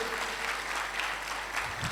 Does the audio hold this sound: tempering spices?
no